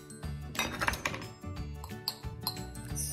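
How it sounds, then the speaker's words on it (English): Food coloring being stirred into cheese in a small bowl, heard as close, brisk clinks and scrapes of a utensil against the dish in irregular bursts, with no talk. "Stir it up to color the cheese."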